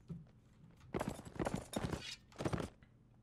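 Hooves of an armored horse galloping in the medieval combat game Mount and Blade Warband, several quick thudding bursts of clip-clop at moderate distance with short gaps between them.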